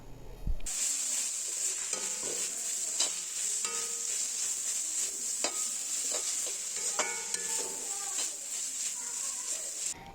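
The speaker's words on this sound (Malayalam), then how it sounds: "അഞ്ച് പച്ചമുളക് നീളത്തിൽ അരിഞ്ഞു വെച്ചിരിക്കുന്നതാണ് അതുകൂടി ഇട്ടിട്ടൊന്ന് വഴറ്റിയെടുക്കാം" Sliced green chillies sizzle in a pan with salt for an egg stew, while a spoon stirs and scrapes in quick irregular strokes over the steady frying hiss.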